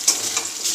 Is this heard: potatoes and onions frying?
yes